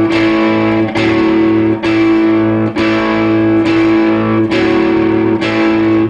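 Overdriven electric guitar repeats a riff twice through, a steady chugging pattern of sustained strikes with regular accents, loud and close, played alone.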